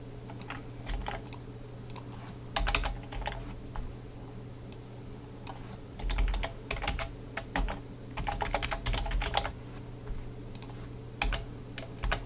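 Fingers type on a computer keyboard while writing a PHP query, a close, steady patter of key clicks in uneven bursts with brief pauses, over a low constant hum.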